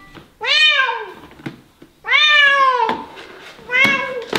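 A cat meows three times in long, drawn-out, plaintive calls, close and loud, with short pauses between them and small knocks in the background.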